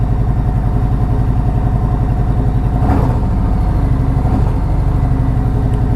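A 2020 Harley-Davidson Electra Glide V-twin, freshly performance tuned and still in cold start mode, idles with a loud, close, steady loping rumble and mechanical clatter, with a slight blip of revs partway through.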